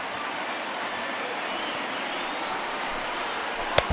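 Baseball stadium crowd of over 38,000 on its feet, a steady loud roar of cheering that holds throughout, with a sharp clap or crack near the end.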